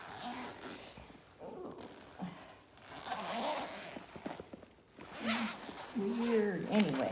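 A carry-on luggage zipper rasps in several drawn-out pulls with pauses between, close by, while someone talks over and between the zipping.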